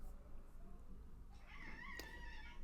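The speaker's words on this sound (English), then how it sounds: "If you heard that, that was my cat Agatha coming in" A pet cat meows indoors, a short, faint, drawn-out tonal call that comes near the end over a quiet room hum.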